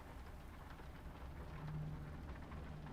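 Steady rain patters and hisses evenly throughout, soft and continuous with a faint low rumble underneath and no voices.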